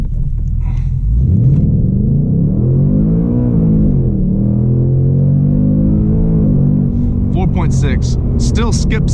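A 2024 Ford Mustang Mach 1 accelerates hard during a 0-60 run, with a loud, close engine roar rising through the gears, pitch sweeping up and dropping at the shifts. A voice speaks briefly near the end.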